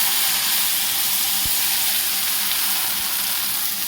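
Fried spice paste hits hot mustard oil while eggs are cooked with spices, giving a loud, steady sizzle that runs unbroken throughout, with one brief stir or clink partway through.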